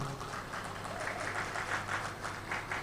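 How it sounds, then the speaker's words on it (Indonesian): An audience at a construction and infrastructure talk applauds steadily, a soft, even wash of clapping heard from some distance, fairly faint throughout. "Boleh tepuk tangan yang meriah."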